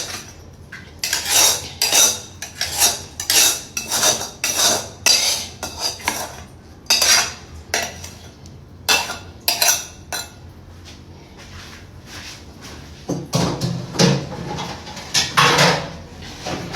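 Metal utensils clink and clatter against dishes while fish bhorta is being prepared, in a long run of sharp, irregular knocks with a few quieter pauses.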